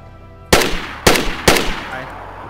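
Three sharp gunshots from the survival video game DayZ ring out in quick succession, each a loud crack with a short decaying tail, spaced about half a second apart over a quiet background.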